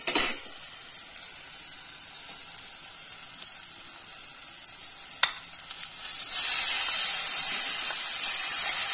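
Taro leaves tipped into hot oil, setting off a sharp burst of sizzling that settles into a steady hiss, then swells louder and brighter toward the end, with no talk.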